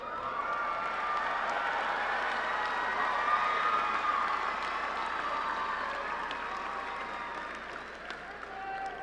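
Audience applause at the Lamar University College of Engineering commencement in May 2019: a large crowd claps steadily with some cheering, sustained and fairly even throughout, heard from within a big hall.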